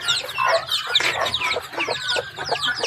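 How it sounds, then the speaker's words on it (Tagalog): Chickens and chicks in a backyard farm cluck and peep busily up close, a dense overlapping chatter of short calls that continues without pause throughout. "mga sisyo ng manok mo"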